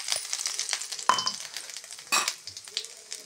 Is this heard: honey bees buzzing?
no